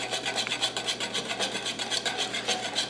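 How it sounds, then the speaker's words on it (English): Eggs are whisked by hand for pasta carbonara, making a fast, even, rhythmic scraping and swishing that repeats steadily at close range with no talking. "you're whisking the eggs"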